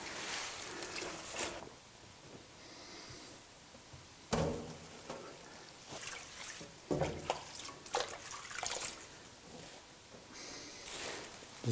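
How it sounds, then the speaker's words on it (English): A kitchen tap runs into a sink being filled to wash kale and parsley, with soft running water and intermittent splashes and clunks as the greens are handled, fairly quiet and close. "I'll fill the sink"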